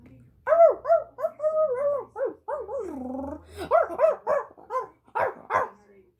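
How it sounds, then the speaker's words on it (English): A cartoon dog barks and growls at a train character, giving a quick run of close, voiced woofs and yips that rise and fall, with short pauses between bursts. "Soon the dog barked at Thomas."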